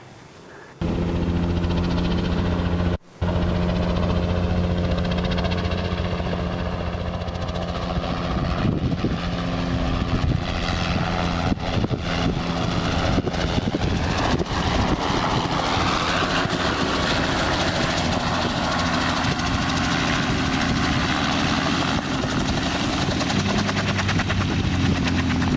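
Helicopter making an autorotation landing: a loud, steady rotor and engine roar fills the whole stretch after a brief quieter opening, continuous with no talking.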